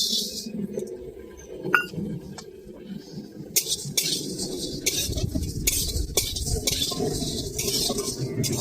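Roasted spices for a chili-free jujube pickle are fried and stirred in a pan over an outdoor clay stove. Scattered close clinks give way to steady, repeated scraping and rustling bursts, with no voices.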